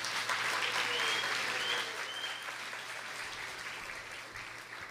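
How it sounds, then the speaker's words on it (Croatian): An audience at a singing competition night claps loudly for all the performers, a dense sustained applause that tapers off slightly toward the end. "molim vas da još jednom velikim pljeskom podržite i pozdravite sve naše izvođače"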